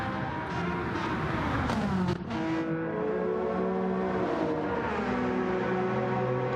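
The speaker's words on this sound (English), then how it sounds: "And here comes Jason in the mighty Porsche." A Porsche race car in a classic racing game, its engine droning loudly with rising and falling revs through gear changes, a brief dip near the middle before the note climbs again, steady and close throughout.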